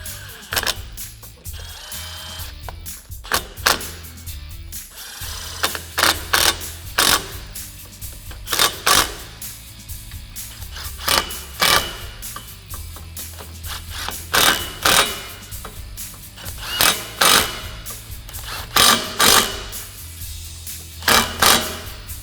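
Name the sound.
tightening clamps of SuperATV nerf bars on Polaris RZR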